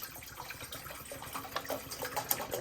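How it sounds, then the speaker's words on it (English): Bottled water pours into a container for a rosemary water mix, a soft, continuous trickle and splash with little bubbling accents, quiet and close with no voices. "So first thing you're going to do is just pour in the bottles."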